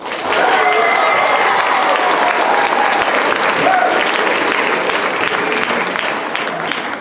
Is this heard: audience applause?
yes